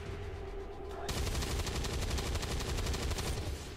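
Rapid overwatch gunfire aimed at a zombie in XCOM 2: War of the Chosen, a dense, steady burst of shots starting about a second in and running continuously to the end, loud and close.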